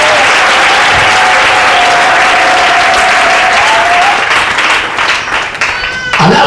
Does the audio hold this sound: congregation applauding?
yes